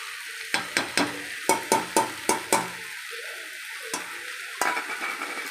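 Brinjal sautéing with coconut powder in a pan over a low flame, with a spatula scraping the pan in a quick rhythmic run of about eight strokes, a pause, then a few more scrapes over a soft background, with no talking.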